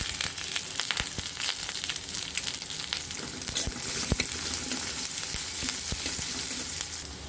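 Onions fry in hot oil as a pinch of nigella seeds goes in, a steady close sizzle with occasional sharp crackles and stirring scrapes, for a village-style prawn and cauliflower dish.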